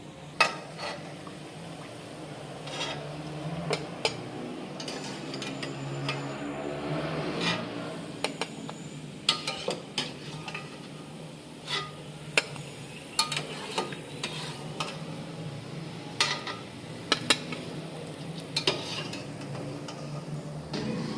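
Sweet tikiyan frying in a wok, a steady oily crackle with scattered sharp clinks and scrapes of a utensil against the pan throughout, no voices.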